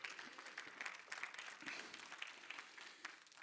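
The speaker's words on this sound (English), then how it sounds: "Give the Lord a big hand clap if I can." A church congregation claps together in steady, dense applause that continues throughout without any voices, heard softly as if from a distance.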